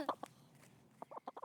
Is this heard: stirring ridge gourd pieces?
no